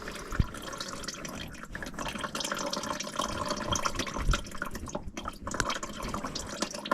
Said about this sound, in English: And we're just going to let it drain for a second there.